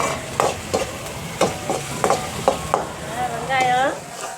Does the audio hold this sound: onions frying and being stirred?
yes